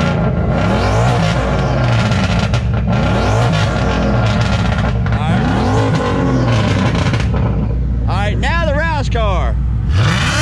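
A loud turbocharged Ford Coyote engine in an S197 Mustang roars and revs close by, pitch rising and falling in repeated surges, with a sharp burst of high revving near the end.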